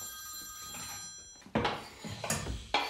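A telephone rings indoors in a Greek comedy series, with faint steady ringing tones early on followed by louder bursts of ringing that stand out clearly over quiet room sound.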